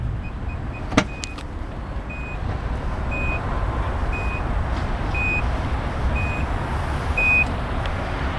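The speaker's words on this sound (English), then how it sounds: "this vehicle does come with a power-assisted liftgate" Power liftgate on a 2011 Infiniti QX56 AWD opening, a low motor hum under evenly spaced warning beeps about once a second, with a sharp latch click near the start, nearby and clear, no voices.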